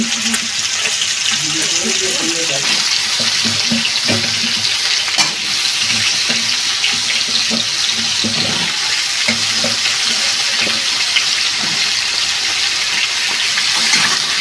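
Sliced squash and potato with nigella seeds frying in a wok give a loud, continuous hissing sizzle that stays steady and close, with faint stirring and a few background voices murmuring underneath.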